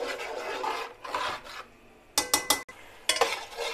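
Tomato, garlic, ginger and chili paste stir-fried over high heat, heard as a close, steady scraping and rasping of a spatula in the pan, with a few sharp louder strokes near the end.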